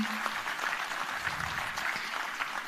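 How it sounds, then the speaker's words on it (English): Audience at a formal government event welcoming India's Union Finance Minister gives a fairly faint, steady round of applause, soft and somewhat distant. "A huge round of applause and a heartily welcome to her."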